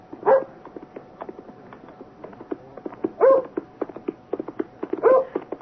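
A dog barks in an old-time radio drama of Jane Eyre, set on a lonely, icy hill road. Three sharp barks come at spaced intervals over a low background of clattering hoofbeat-like knocks, with no speech.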